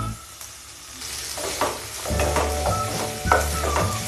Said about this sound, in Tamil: பச்சை மிளகாய், பூண்டு, இஞ்சியும் சேர்த்திக்கிறேங்க. இந்த தடவை நல்லா வதக்கிக்கலாம்.